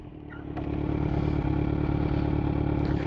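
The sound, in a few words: Kawasaki Z900 motorcycle hard front-brake stop from 25 mph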